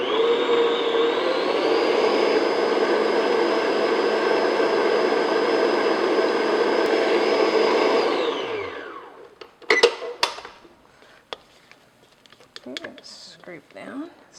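An electric mixer beats vanilla extract into banana chocolate cupcake batter with a steady, fairly loud whirring drone that shifts pitch once, then winds down and stops, followed by a few clinks and scrapes.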